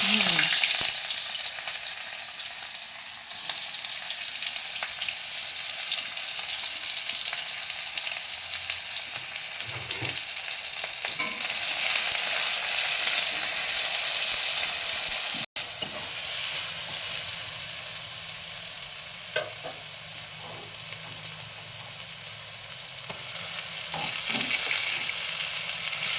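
Onions frying in hot oil, a steady broadband sizzle that holds throughout with occasional stirring clatter, fairly close, no talk over it.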